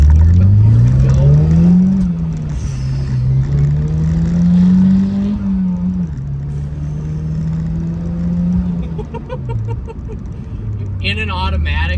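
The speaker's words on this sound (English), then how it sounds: "The amount of boost that this car is making now is incredible." A turbocharged Pontiac Solstice with a Stage 1 tune accelerates hard through manual gears, its loud engine rising in pitch, dropping at each shift and climbing again, heard from inside the car.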